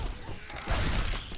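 A weapon reloading in the Left 4 Dead 2 zombie shooter: a brief burst of mechanical clacks and a dull thump, close and fairly loud.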